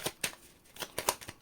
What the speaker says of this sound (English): see, last shuffle.